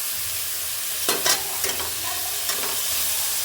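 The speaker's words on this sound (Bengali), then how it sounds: "এটাকে আমি নাড়তে থাকবো। এর উপরে দিয়ে দিলাম নুন, যাতে টমেটোটা চট করে গলে যায়।" Chopped tomatoes frying with salt in a pan, a continuous soft sizzle with a few brief spoon scrapes and stirring knocks partway through, no voices.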